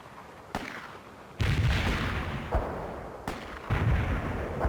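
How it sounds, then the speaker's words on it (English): Mortars firing in a war video game, a series of heavy booming launches with rumbling tails, loud and close, recurring every second or so with no talk. "Molotov firing mortars."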